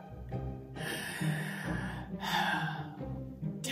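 A storyteller's voice imitates terrible, creepy breathing for a children's read-aloud, with a few close, drawn-out raspy breaths and gasps.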